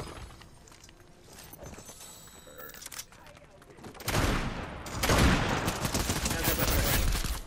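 Video game shootout gunfire: sparse shots early, then a loud, dense burst of rapid automatic fire in the second half, with players talking over the action.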